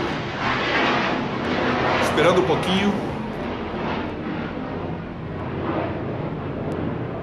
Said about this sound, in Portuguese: Tem um avião passando